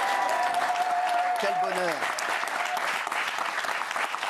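A studio audience applauds a singer's arrival, sustained dense clapping throughout while someone talks over it and a brief musical tone sounds.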